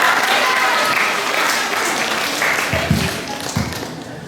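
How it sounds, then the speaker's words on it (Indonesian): Seminar audience applauds indoors, a dense, sustained burst of clapping that fills the room and tapers slightly toward the end. "Mari kita beri aplaus dulu di sebelum."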